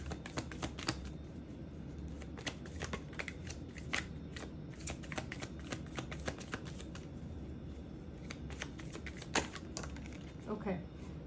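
Tarot cards shuffled and handled in a run of soft, rapid riffling flicks and taps across the whole span, fairly close, with some faint talk underneath.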